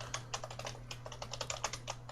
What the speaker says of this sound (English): She's frantically typing over there. I can hear her.